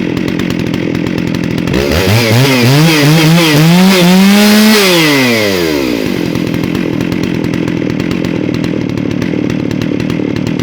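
A chainsaw used for milling starts up close and loud, its engine revving up and falling back before settling into a steady running idle, with no talk.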